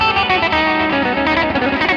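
An electric guitar through effects strikes an A dominant seventh flat five chord, a dense sustained voicing with slight overdrive, rhythmic pulses of re-strummed notes throughout.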